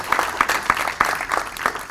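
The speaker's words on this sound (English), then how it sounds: "Actually, you really deserve a grand applause." Applause at the inaugural session of the TRF 2018 event: a steady wash of clapping with a few sharper, evenly spaced claps standing out, at moderate volume throughout.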